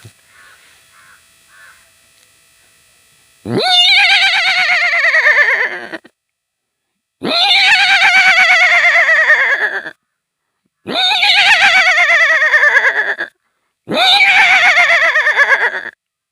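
A man imitates a horse whinnying, giving four loud, drawn-out neighs that fall in pitch, each separated by a brief pause.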